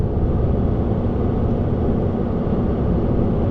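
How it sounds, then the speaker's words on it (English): A 1.6 car is engine braking on the M6 motorway at night. A steady, dense low rumble of engine and road noise runs evenly throughout with no talk. "A little bit of engine braking."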